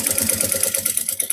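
A sewing machine stitches a sublimated A4 bag measuring 35x25x10 cm, making a short, close burst of rapid, evenly pulsing mechanical stitching with no speech.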